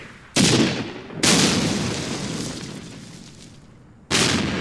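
Artillery in the Campaign Series Middle East wargame, set in an Arab-Israeli war, fires three booming rounds at uneven intervals. Each blast is loud and sudden, then rumbles away slowly, with no talk over the shots.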